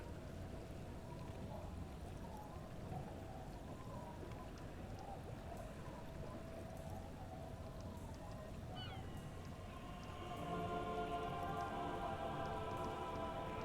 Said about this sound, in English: It's early spring, and the rains are coming.